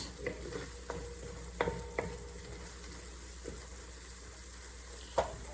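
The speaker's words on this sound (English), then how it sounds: "give it a good stir, and really let it touch all these vegetables and cook" Vegetables sizzle steadily in a pan for a fish in tomato gravy, with a few sharp spoon scrapes and taps from stirring standing out at irregular moments; no one talks.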